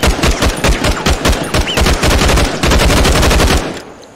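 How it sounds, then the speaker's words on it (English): Rapid automatic gunfire from a weapon in a VR shooter game, loud sustained bursts of closely spaced shots lasting about three and a half seconds before cutting off. "now press trigger to fire"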